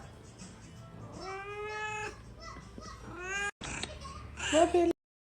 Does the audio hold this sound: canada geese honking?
no